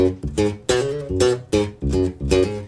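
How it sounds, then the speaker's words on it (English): A Nordstrand electric bass plays a punchy, rhythmic line of repeated plucked notes with a bright jazz-bass-like snap, clear and close, no voices. "that's as close to a jazz bass sound as I can get on this with having that snap"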